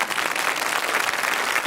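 A television studio audience gives a short, even round of applause, a steady wash of many hands clapping with no voices over it.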